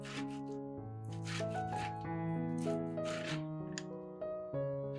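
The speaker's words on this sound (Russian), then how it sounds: "Отдельно трем белок на мелкой терке" Boiled egg whites are grated on a fine grater, giving soft, rapid scraping strokes under light background music.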